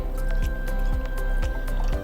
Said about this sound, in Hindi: तो यहाँ 1 ग्लास में मैंने ये पानी भर दिया है।